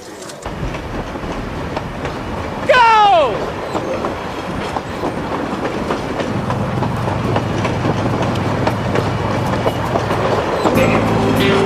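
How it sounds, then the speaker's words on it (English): A fast train roars along with steady rattling and a brief high squeal early on, while someone shouts a single word over the din. "we just jumped onto a speeding train"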